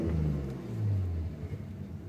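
Twin-turbo Nissan R33 engine held on launch control, giving a loud, steady low rumble with a slight swell in pitch partway through, close up and with no talk over it.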